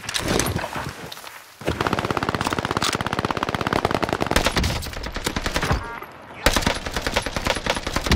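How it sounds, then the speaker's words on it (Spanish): Sustained automatic gunfire in the World War II shooter Warzone Pacific, long rattling bursts of rapid shots with brief pauses and a short gap, loud and close throughout. "Están disparando de arriba."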